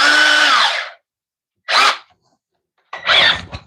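A power screwdriver whirs in three close, loud bursts: one long spin of nearly a second that winds down, a short blip, then a final rough burst that stutters as it stops.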